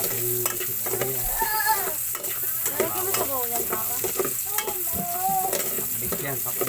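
Onions sautéing in a pan as the start of pakbet, a constant close sizzle with stirring, while a voice talks continuously over it.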